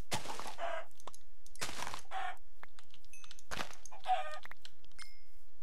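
Chickens cluck in the Minecraft video game, a few short separate bursts of squawking with quiet gaps, fairly close and with no speech over them.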